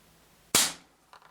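A single sharp shot from an ASG Schofield air pistol firing a .177 flat-nosed pellet, close and crisp with a quick decay, followed by a faint small tap.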